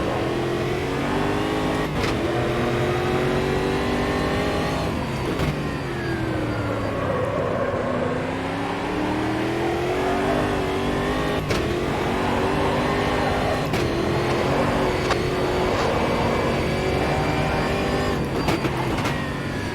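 Race car engine in the sim racing game Automobilista 2 revs continuously and loudly, pitch rising and falling with throttle blips and gear changes, no voices present.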